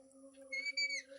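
Pet talking parrot giving a short clear whistle, a sustained pitched note that bends at the end, close and quiet against a faint steady tonal hum.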